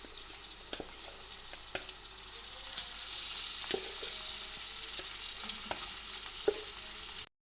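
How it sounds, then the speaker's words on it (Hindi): Half a kilo of beef mince fries on a high flame with a steady, loud sizzle, punctuated by frequent clicks and scrapes of stirring throughout. "अब हम हाई फ्लेम पे कीमे को अच्छे से फ्राई करेंगे"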